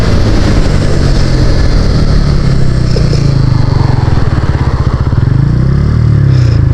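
A Pulsar N160 motorcycle's engine roars loud and steady at over 100 km/h, the pitch shifting slightly toward the end as the rider brakes.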